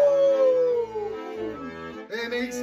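A singer imitates a wolf howl in a children's Halloween song, with a long gliding vocal howl that falls in pitch, then a short second call, all over music.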